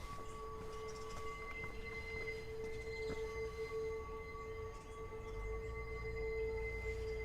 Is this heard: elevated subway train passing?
yes